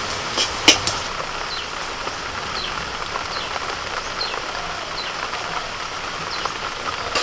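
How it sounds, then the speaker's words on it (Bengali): Sudden rain falls steadily on surfaces nearby, a dense, even patter with a few sharper drops standing out and no one speaking. "হঠাৎ করে বৃষ্টি হতে গেল"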